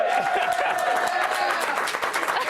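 Studio audience applause on a live television entertainment show, a dense, steady clapping that stays loud and continuous throughout with some crowd murmur mixed in.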